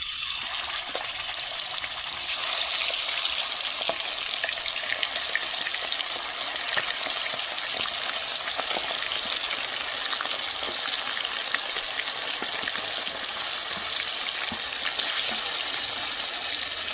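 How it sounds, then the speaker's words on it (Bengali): Chicken pieces fry in hot mustard oil in a wok-style pan for a restaurant-style chicken curry, a dense, continuous crackling sizzle that holds steady and close throughout with no voices. "চিকেনের পিসগুলো ভাজা হয়ে গেছে"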